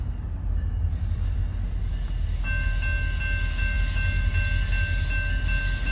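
CSX office car special train P001 rumbles steadily across the St. Joseph bridge in Michigan around 5 a.m., a constant low roar, a faint high tone joining partway through; no voices.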